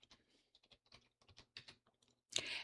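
Quick, irregular clicks of keys on a computer keyboard come close and quiet as a single word is typed, ending with a louder, longer rustle or clatter.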